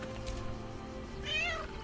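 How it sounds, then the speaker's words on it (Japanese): A cat meows once, a short rising call, over steady background music and ambience in the video game Baldur's Gate 3. "お、猫だ。"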